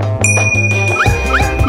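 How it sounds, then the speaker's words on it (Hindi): A school bell rings out in a few bright, close ding tones over a brief low drone, loud and clear, with no talking. "घंटी बजने के कारण बच गए।"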